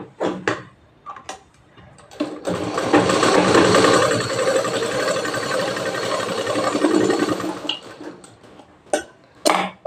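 A sewing machine stitches a princess-cut blouse, running steadily for about five seconds. Short clicks and handling knocks come before and after the run, and no one talks.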